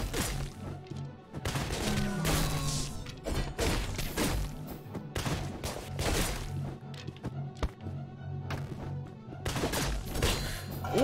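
Gunfire and impact crashes from an armed enemy in the action game Katana ZERO, a dense run of sharp shots, thuds and smashes packed close together, loud and continuous over a low game soundtrack.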